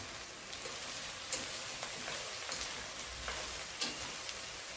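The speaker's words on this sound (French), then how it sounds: "Et là, je vais ajouter mes pommes de terre." Onions frying in a pan with potatoes tipped in for a spiced Lebanese potato dish, a steady dense sizzle with a few soft stirring knocks, close and alone.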